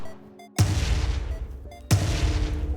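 Two loud booming explosions from barrels chain-reacting in Simulakros, each a sharp blast with a rumbling tail, spaced about a second and a half apart, over faint game music.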